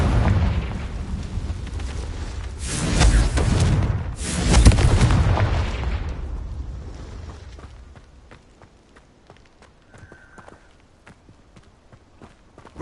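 The Confringo spell in Hogwarts Legacy produces two loud, booming explosive bursts close together. Each blast ends in a rumbling tail that fades to quiet, followed by faint small ticks.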